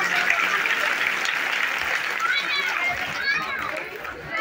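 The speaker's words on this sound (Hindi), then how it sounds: "ताली होना चाहिए।" Crowd applause at a Bhagavat Katha religious storytelling gathering, a dense sustained wash of many hands clapping with children's voices mixed in, steady and fairly loud throughout.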